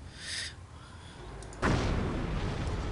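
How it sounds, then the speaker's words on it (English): A mortar shell lands with a direct hit in a World War II tank game, a sudden deep boom with rumbling tail that follows an earlier faint distant blast, with no talking. "that was a direct mortar hit"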